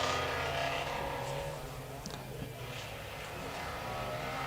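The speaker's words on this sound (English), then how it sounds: "You heard in the exhaust note that he stayed off the power until the car was fully straight" A Riley 9 vintage car climbing a hillclimb course, its exhaust note a steady, distant drone that builds under wind and ambient noise, with no talk over it.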